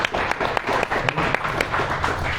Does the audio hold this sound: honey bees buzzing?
no